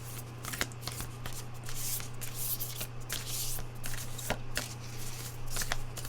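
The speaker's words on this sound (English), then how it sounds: "I'm going to reshuffle because these are hard to shuffle." Playing cards are shuffled repeatedly with soft riffling and flicking bursts over a low steady hum, close by and fairly quiet.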